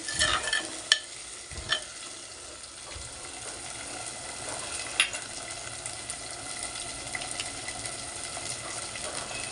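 Large tomatoes get stirred into a simmering egg curry in a clay pot, with a continuous sizzling hiss and occasional scraping knocks of the spoon against the pot, close and steady, with no talking.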